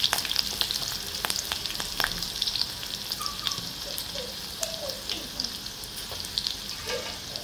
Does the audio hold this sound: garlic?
yes